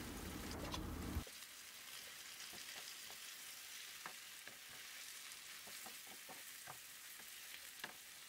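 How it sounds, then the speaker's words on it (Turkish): Diced beef cubes sautéing in a pan, a steady close sizzle broken by scattered scraping stir clicks, with a brief louder burst at the very start. "Bir kase dolusu kuşbaşı eti ekledikten sonra kavurma işlemine devam edelim."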